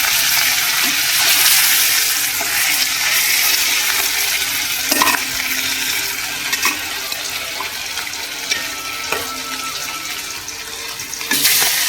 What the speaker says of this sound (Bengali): এই যে পুরো কড়া করে ভাজছি